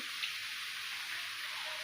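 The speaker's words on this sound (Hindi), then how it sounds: "बारिश लगी हुई है ज़बरदस्त 2 दिनों से" Heavy rain falls continuously, giving an even, dense hiss that stays steady throughout with no voices.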